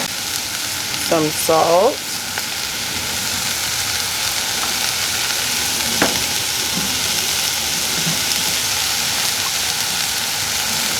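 Vegetables softening in a pan for a tomato pizza sauce, a loud continuous close sizzle with occasional stirring scrapes, while a voice speaks briefly near the start.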